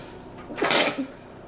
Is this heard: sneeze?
yes